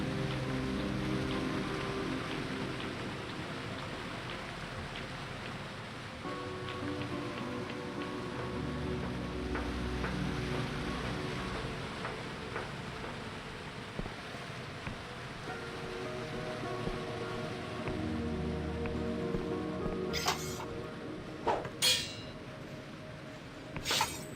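Steady rain falls in the Dread Delusion video game, a soft continuous wash of drops and running water with no voices, joined by a few sharper clicks near the end.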